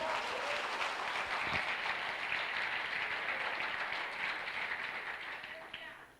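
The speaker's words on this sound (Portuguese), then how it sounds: "Dar um aplauso bem forte ao Senhor." A church congregation applauding together, a steady dense wash of clapping that stays loud throughout and tapers slightly near the end, with faint voices underneath.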